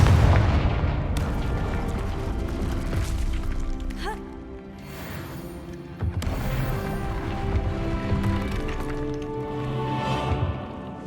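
Confringo spell blasts in Hogwarts Legacy, booming explosions and cracks over a dense rumbling game soundtrack, several impacts spread across the stretch, loud and close.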